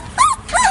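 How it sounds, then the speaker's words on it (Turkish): An Aksaray Malaklısı, a large and powerful Turkish shepherd dog, gives two short, whiny vocal bursts close by, each sliding in pitch, with no other sound around them. "Çoban köpeği olan Malaklılar Aksaray'da özenle yetiştiriliyor."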